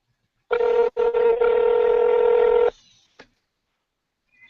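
An online video call rings with a single sustained electronic tone lasting about two seconds, briefly interrupted near its start, then fading to a short blip and quiet.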